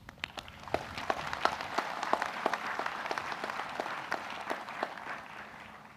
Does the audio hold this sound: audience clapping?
yes